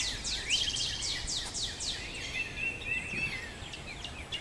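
Quick high chirps and twittering calls from small birds in a garden, repeated in a rapid series, moderately close over a soft outdoor hiss.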